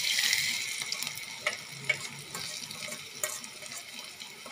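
Mixed masala being fried in a pan for matar paneer curry, a low hissing sizzle with occasional stirring scrapes, fairly faint and steady, no speech.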